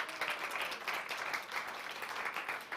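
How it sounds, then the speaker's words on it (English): An audience in a church sanctuary claps for the actors of a performance, giving steady, dense applause from many hands that holds at an even level throughout. "You can give them a round of applause."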